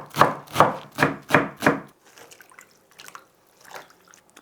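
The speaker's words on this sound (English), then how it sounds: "I really like chopping green veg." Five crisp, evenly spaced knife chops through green vegetables on a board, close and loud, followed by quieter scattered taps and rustling.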